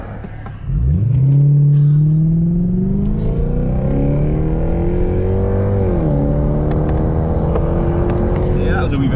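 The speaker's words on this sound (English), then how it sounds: "I'll just let this car pass first." A car engine rises in pitch as it approaches and drones past close by on a road, loud and steady for several seconds.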